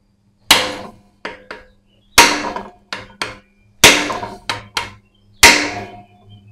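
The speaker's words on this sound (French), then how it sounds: "j'ai sorti un peu la massette quand même" A heavy mallet pounds a screwdriver while an engine is being removed. About ten sharp, close metallic strikes land in uneven groups, each big blow followed by one or two lighter taps, with quiet gaps between.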